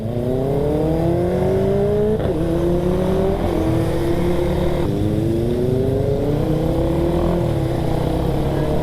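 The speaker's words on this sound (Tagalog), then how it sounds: "Big bike yung tunog eh" A large-displacement big bike engine passes close by in traffic between Cavite and Pasay, its loud revving whine climbing in pitch in repeated surges over a steady, constant engine drone.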